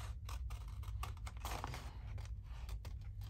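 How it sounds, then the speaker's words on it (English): Big scissors cut through vellum in a series of close, quiet crisp snips and rustles, the blades crunching repeatedly in an uneven rhythm, with no talk. "Let's just do a bit of cutting there. Get our big scissors in."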